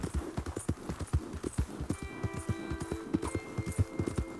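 Horse hooves clip-clop in a steady, brisk rhythm in Red Dead Redemption 2, close and clear, with a low ambient hum underneath and no talking.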